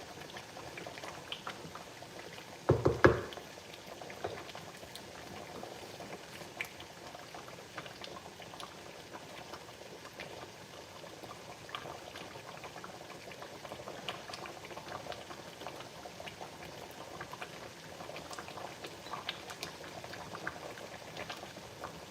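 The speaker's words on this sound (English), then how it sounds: "So I want to let it boil very well." A pot of okra soup with kpomo and chicken bubbles steadily on the stove, a continuous close boiling and popping with a short louder clatter near the start and no voices.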